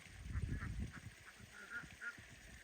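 Ducks on a farm quacking faintly at a distance, several short calls spread across a few seconds over low rumbling background noise.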